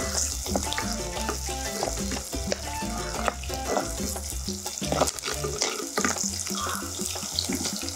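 Green chillies and mustard seeds frying in hot oil for a fish and potato cutlet give a steady, close crackling sizzle with occasional stirring clinks throughout.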